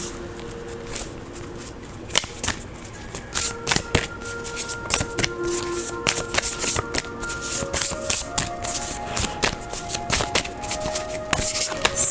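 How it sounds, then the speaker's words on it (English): Steady soft shuffling of matte oracle cards with frequent small taps and slides, close up, over faint background tones and hum, no talking. "I'm just shuffling, getting the energy of the cards"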